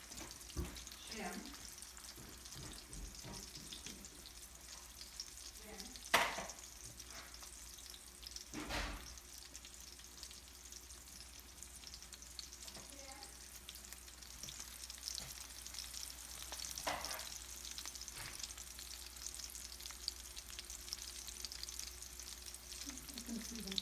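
Meatballs fry in a pan on a home stove with a continuous crackling sizzle, interrupted by a few sharp clatters and some faint background voices.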